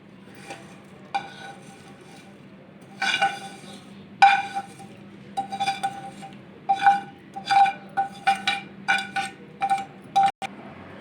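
Vermicelli and nuts being stirred into milk in a wok: intermittent metallic clinks and scrapes of a spoon against the pan, with brief pauses between strokes and a low background hum.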